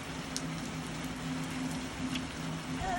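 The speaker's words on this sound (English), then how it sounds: "It's raining." Rain falls in a steady, even hiss with faint scattered drops tapping nearby, heard beside someone sheltering under an umbrella; a low hum runs beneath it and no one speaks.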